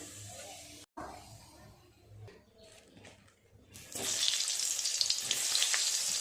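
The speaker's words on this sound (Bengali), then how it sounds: "সব পাঁপড়গুলো ভাজা হয়ে গেল, এবার আলু আর পটলগুলোও ভেজে নেব।" Quiet clinks and handling noises give way to a loud, steady sizzle as potatoes and pointed gourd fry in hot oil.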